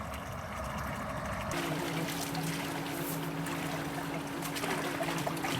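Water trickles and spills from a village fountain in Konya, a steady splashing wash that swells fuller partway through and stays close and continuous with no voices.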